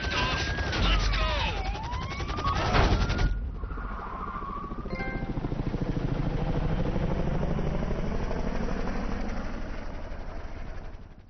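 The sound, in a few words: helicopter lifting off, from video game GTA 5 Online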